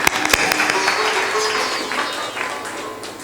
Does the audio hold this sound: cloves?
no